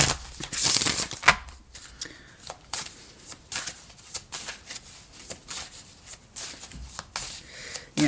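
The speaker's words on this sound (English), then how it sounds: "They got a couple more shuffles." Tarot cards are shuffled by hand, close and crisp, with repeated riffling and sliding bursts in an uneven rhythm and occasional soft taps.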